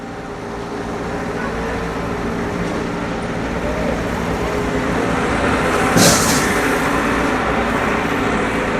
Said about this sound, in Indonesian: Nah itu truk yang ketiga,